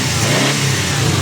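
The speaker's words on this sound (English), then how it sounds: "Do a little bit of throttle." A Subaru Impreza STi's EJ20 engine, just fitted with a new timing belt, revs under throttle with a loud, steady, close roar that holds throughout, with no talk.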